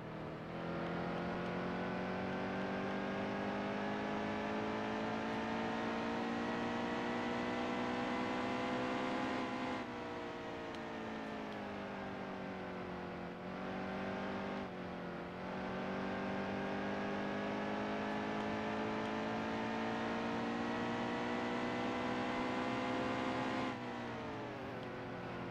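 A NASCAR Heat 2 race car engine drones steadily at high revs, loud and close, with a few brief drops in pitch as the driver lifts off the throttle before climbing back, and no talk over it.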